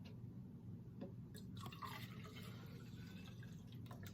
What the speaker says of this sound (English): what happens when I pour it into this container, which is yet a different shape?